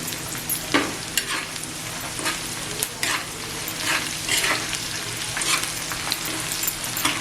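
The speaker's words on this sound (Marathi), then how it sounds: "आता याच्यात कढीपत्ता टाकते अच्छा आणि जे आपण वाटून मसाला घेतले ना ना हे आलं लसूण आणि मिरच्या ओके त्याही टाकते" Curry leaves and a ground ginger, garlic and green chilli paste fry and sizzle in hot oil in a home kitchen, with steady crackling and scraping stirs at close range, no voices.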